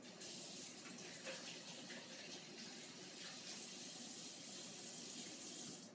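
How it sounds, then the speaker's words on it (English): Hands being washed under a running tap, a steady, fairly loud rush of water into a sink that continues unbroken, with no talk. "Let me wash my hands."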